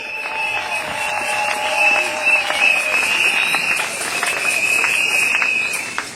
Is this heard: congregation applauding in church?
yes